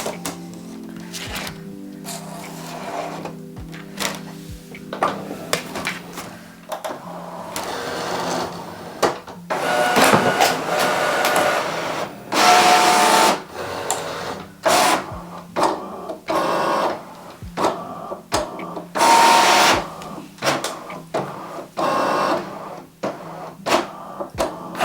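Two Cricut Explore cutting machines, a 4 and a 5, running a print-then-cut job: rhythmic mechanical whirring and motor buzzes, stopping and starting in short bursts with loud clattering stretches, close by and with no talk.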